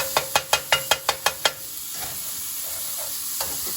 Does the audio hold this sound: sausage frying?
yes